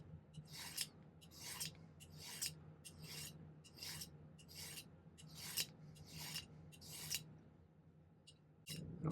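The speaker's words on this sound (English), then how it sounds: "I find it easier to file a taper when it's curved like this." A silver crescent moon ring has its taper filed by hand, giving a steady run of about nine close, rhythmic rasping strokes with short pauses between them and no talk.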